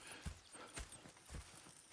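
Horse hooves clip-clop in a steady walking rhythm across the Red Dead Redemption 2 video game, the close, distinct thuds repeating about every half second against soft ambient background noise.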